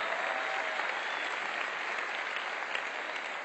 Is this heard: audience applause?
yes